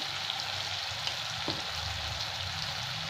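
Ground spices (coriander, turmeric, Kashmiri chilli, cumin, amchur) fry in oil in a pan for a potato curry, giving a soft, steady sizzle at low level with faint occasional stirring and no talking.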